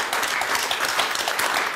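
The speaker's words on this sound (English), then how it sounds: "So that's getting a round of applause." A studio audience at a televised political debate breaks into a short burst of steady, dense applause that fills the whole moment without pause.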